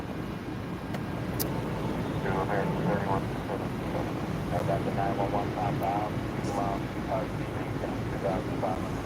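An airplane rumbles steadily in the distance at Orlando Airport, a low continuous engine roar under intermittent talking nearby.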